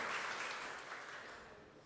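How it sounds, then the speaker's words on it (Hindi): Audience applause at a crowded religious discourse gathering in Jalaun, heard as a faint, distant, steady wash of many hands that slowly fades over a couple of seconds. "एक बार तालियां बजाओ"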